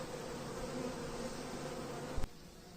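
Bees buzz at a large 24-frame beehive in the Carpathians, a dense, continuous drone close by, with a brief knock near the end.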